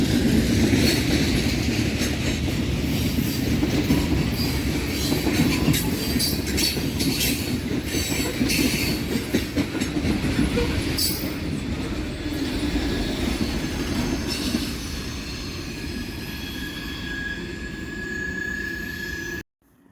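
An Amtrak train led by a P42 DC and an ALC 42 locomotive rolls past close by with a steady rumbling roar, clicking wheels over rail joints and some wheel squeal, then cuts off abruptly.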